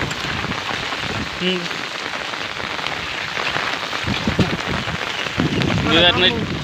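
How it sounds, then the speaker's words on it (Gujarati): Heavy night rain, with wind, pours down in a village, a dense, continuous hiss of drops hitting surfaces, with faint voices briefly underneath. "અમારા ગામમાં તો આખી રાત વરસાદ આવ્યો છે"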